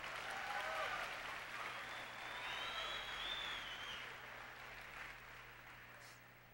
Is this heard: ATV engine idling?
no